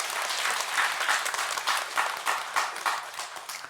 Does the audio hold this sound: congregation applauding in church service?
yes